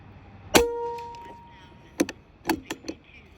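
Artemis P12 .177 air pistol firing 21 grain slugs: one sharp, loud shot with a short metallic ring, then a few quieter clicks and knocks as the pistol is handled.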